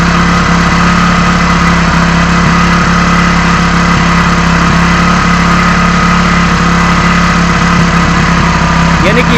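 A petrol motorcycle engine idles steadily and loudly up close while its carburettor air screw is adjusted, a constant dense rumble with no clear change in pitch, with a voice talking over it.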